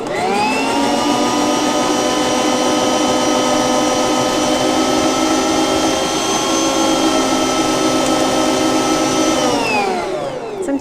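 A motorized kitchen appliance chopping red onions for vegetable rice gives a loud, steady high-pitched whine that holds for about ten seconds before winding down at the end, with no talk.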